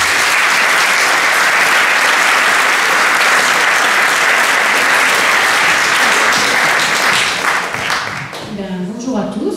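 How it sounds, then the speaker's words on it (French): Dense, loud applause from an audience at a public talk on a shortage of city and school bus drivers, steady for several seconds before thinning out as someone begins speaking at the close. "je vous propose d'applaudir et d'accueillir Cécile"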